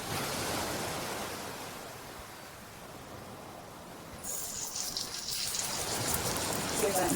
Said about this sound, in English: Give that nice sizzle.